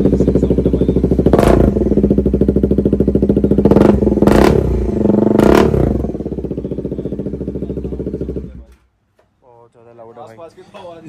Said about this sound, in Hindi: अब मैं आपको ट्राई कराता हूँ एग्जॉस्ट का साउंड